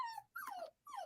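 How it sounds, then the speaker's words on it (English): A pet dog at home makes three quiet, high whining whimpers in quick succession, each sliding downward in pitch, with brief silences between and no talk. "Sorry, that's my dog."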